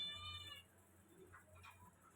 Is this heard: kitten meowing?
yes